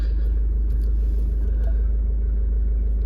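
A grey manual Ford Focus 1.5 TDCi Titanium X Euro 6 diesel idles after starting, a close, loud, steady low rumble that stays even throughout with no voices.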